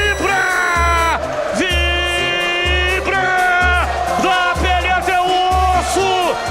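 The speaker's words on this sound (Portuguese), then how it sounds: "A torcida vibra." Football stadium crowd celebrating a Guarani goal against Vila Nova, a loud sustained roar with rhythmic chanting and horn-like tones pulsing repeatedly, close and dense throughout.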